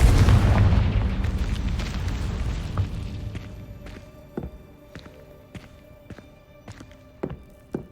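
Confringo fire spell cast in Hogwarts Legacy, a loud booming blast at the start that rumbles and fades, followed by scattered thuds and footstep-like knocks in a quieter game scene.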